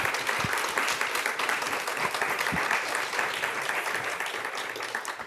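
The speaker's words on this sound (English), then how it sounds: "Round of applause for this amazing panel." An audience at a symposium panel claps steadily in sustained applause, dense and even, fading slightly toward the end.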